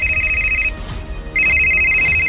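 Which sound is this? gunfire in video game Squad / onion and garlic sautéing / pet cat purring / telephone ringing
telephone ringing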